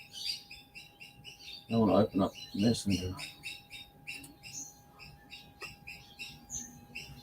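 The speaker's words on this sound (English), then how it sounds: "You can hear a little bird chirping in the background." Noisy miner birds chirp in quick, repeated bursts throughout, fairly close, while someone speaks briefly in the middle.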